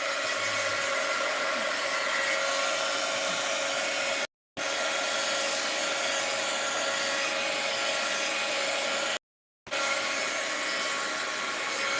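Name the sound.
heat gun drying paint on teabag art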